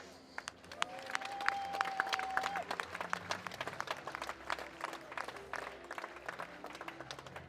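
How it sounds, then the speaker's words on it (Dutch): Audience applause at a Dutch event, many hands clapping in a moderate, fairly distant wash of claps with a brief whistle-like tone near the start, steady throughout. "dat verdient wel een applaus"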